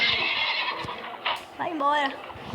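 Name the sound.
horse neighing in a video game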